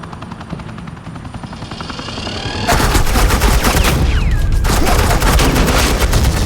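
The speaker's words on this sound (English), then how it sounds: "This is Agent Quinn, suppressing fire." Suppressing gunfire in the Batman The Enemy Within video game, a loud sustained burst of rapid automatic shots that erupts over a whirring helicopter-like drone and keeps going to the end, no talk.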